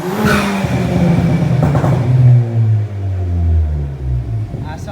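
A Toyota Celica ST180 engine with an Airtec hard pipe turbo elbow revs loudly nearby, pitch climbing and falling through several pulls, with a throaty rumble and a whooshing turbo edge.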